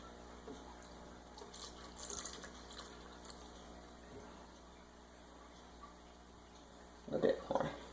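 Lemon juice pours from a cup into a mixing bowl of eggs for lemon squares, a faint, soft liquid trickle with light splashes, close by, followed by a brief louder splash near the end.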